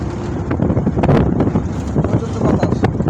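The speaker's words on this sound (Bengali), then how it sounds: "প্রচণ্ড বাতাস।" Strong wind buffets past a fast-moving bus, making a loud, continuous rushing roar with rumbling gusts and crackling microphone buffeting throughout.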